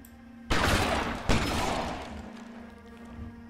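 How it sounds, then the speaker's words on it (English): A burst of gunfire from the video game L.A. Noire: a loud crack, then a second sharp shot with a rumbling tail that slowly fades. "Where does the shooting come from?"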